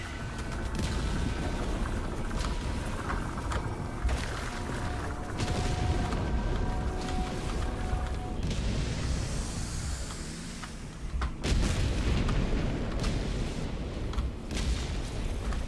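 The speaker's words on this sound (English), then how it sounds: "Firing orbital barrage." Orbital barrage strikes pound the ground in Helldivers 2, a steady run of heavy booms and rumbling blasts that roll over one another for the whole stretch, with a brief lull before another loud surge near the end.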